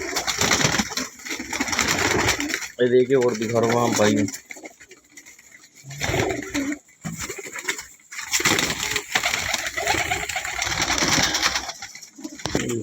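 Pigeons in a seller's stock, including green-type birds, coo in low throaty bursts among busy handling noise and rustling, while someone talks over much of it.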